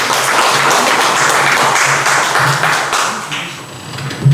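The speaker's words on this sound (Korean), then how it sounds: "박수로 맞아주시기 바랍니다." Audience at a peace and unification education forum applauding to welcome a presenter, a dense burst of clapping that holds steady, then thins toward the end.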